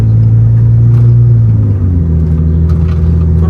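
A BMW E38 sedan, abandoned for two years and now running with a deflated tire and an unlatched hood, rolls along at low speed with a steady, loud engine rumble that dips in pitch partway through.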